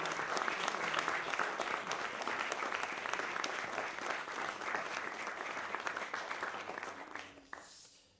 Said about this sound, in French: non sans avoir applaudi profusément l'auteur et les traducteurs